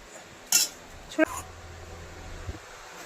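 Spoon clinking on a plate while aloo dum is served alongside luchi at a home meal, two sharp metallic taps about a second apart over a steady low room hum.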